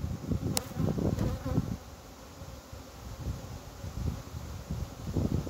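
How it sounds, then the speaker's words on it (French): Swarm of honey bees buzzing steadily and close around a beekeeper working an open hive outdoors, a dense continuous hum with light wind rustle. "T'as vu là la quantité d'abeilles que j'ai sur la tronche là."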